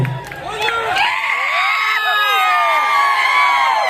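A crowd claps and cheers loudly at a live folk song performance, with high whoops and shouts rising over a steady roar of voices, close and continuous.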